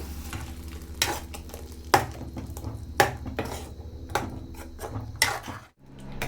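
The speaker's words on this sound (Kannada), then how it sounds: "ರುಬ್ಕೊಂಡಿದ್ನಲ್ಲ ಟೊಮೆಟೊ ಪೇಸ್ಟನ್ನು ಹಾಕ್ಕೊಳ್ತಾ ಇದ್ದೀನಿ" Tomato paste is stirred into sautéing onion masala for chickpea chole, with a spoon scraping the pan in regular strokes about once a second over a constant close sizzle.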